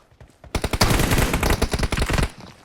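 Automatic gunfire in PUBG, a loud dense burst of rapid shots lasting under two seconds, heard alone after a few faint scattered pops.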